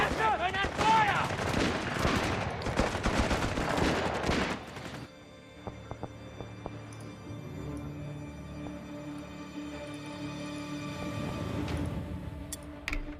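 Dense gunfire in the World War II strategy game Company of Heroes 3, with rapid machine-gun bursts and rifle shots for about five seconds, then sparse distant pops under game ambience and a voice.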